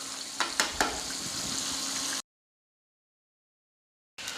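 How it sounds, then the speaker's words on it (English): Steaks sizzle steadily in a hot pan, a dense close frying hiss broken by a few sharp pops, cutting off to silence midway before the sizzle briefly returns. "So we're gonna let the steaks cook on this side now for a little bit."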